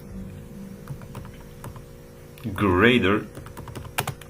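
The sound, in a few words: typing on a computer keyboard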